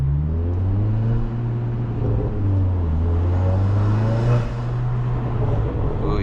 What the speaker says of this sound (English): Ooh, you hear the turbo? The big turbo?